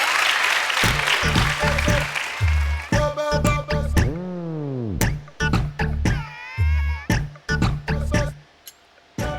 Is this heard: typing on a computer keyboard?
no